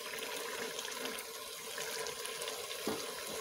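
Water poured into a pot of rice and meat, a continuous splashing rush, fairly faint and steady for a few seconds.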